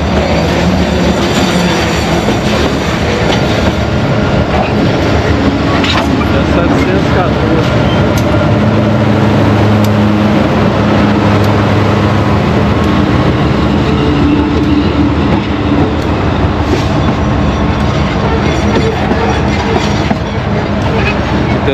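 A loaded freight train carrying limestone descends a grade with its locomotives braking, giving a loud, steady rumble with wheel clatter and squeal, while someone talks over it throughout.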